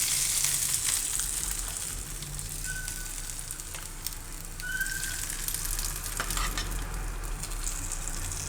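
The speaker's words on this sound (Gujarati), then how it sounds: "આ વઘાર આપણે મુઠિયા ઉપર નાખી દઈએ." Hot oil tempering with sesame seeds and curry leaves sizzles steadily over freshly made patra muthiya, a loud, continuous crackling hiss that holds without pause and with no talking.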